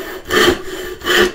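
A hand saw cuts through wood along a marked line, two close rasping strokes in a steady back-and-forth rhythm with no talking.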